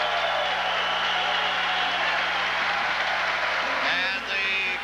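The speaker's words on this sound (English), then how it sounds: "And the crowd here erupts" A crowd at a high school basketball game, Fondy at Kimberly in January 1995, erupting in a dense, sustained roar of cheers and applause that stays loud throughout and swells again near the end.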